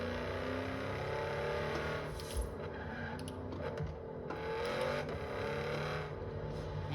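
A Lamborghini Urus SUV drives through Edinburgh, its engine a steady, continuous drone mixed with road noise, heard alone without voices.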